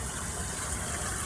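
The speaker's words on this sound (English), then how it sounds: "You can hear the water, maybe see it flowing there." A small ephemeral creek between wet meadows flows into an outlet, a steady, soft gushing and burbling of water heard close and continuous through a short stretch.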